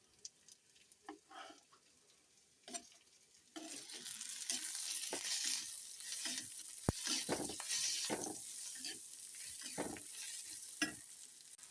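Onion and tomato sautéing in a pan for tomato chutney: quiet spatula taps at first, then tomatoes drop in and a steady sizzle starts, with irregular stirring scrapes and clicks over it.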